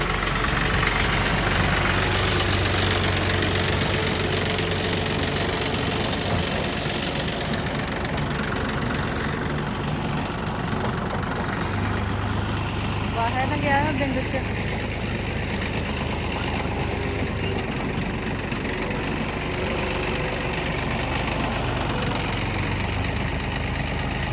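A tractor engine idles steadily and loudly, a continuous low rumbling drone that persists unchanged throughout.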